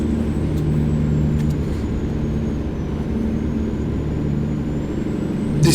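Kenworth K100E truck in American Truck Simulator, its engine a steady low rumble at cruising speed, loud and continuous, with a faint high whine above and no talk.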